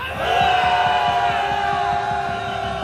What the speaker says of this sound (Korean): 자, 우리 함성 한번 크게 한번 질러보겠습니다